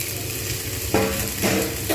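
Vegetables for a spinach ghonto sizzle steadily in a hot pan, with a few louder stirring scrapes breaking through the constant crackle.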